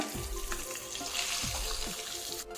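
Fish frying in oil, a continuous close sizzle with a few soft knocks as the pieces are gently turned.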